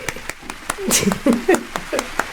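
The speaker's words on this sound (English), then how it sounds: "Let's get a round of applause for Roxie." A radio show audience gives a guest a thin round of applause: a few sharp, separate hand claps, close by, mixed with voices talking and laughing.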